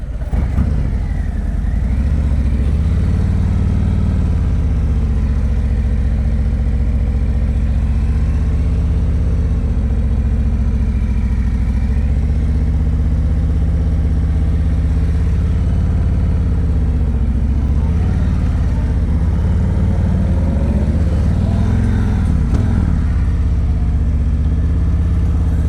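Motorcycle engine running in first gear during slow-speed riding practice in Texas, a loud, steady low drone with gentle rises and falls in pitch across the whole stretch, no talk.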